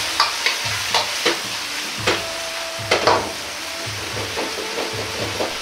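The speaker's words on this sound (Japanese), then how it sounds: "最後に軽く混ぜ合わせれば餡の完成です" A cornstarch-thickened sauce flavoured with sesame oil is stirred in a pan, with soft regular scraping strokes and light taps over a gentle bubbling sizzle, close and without talk.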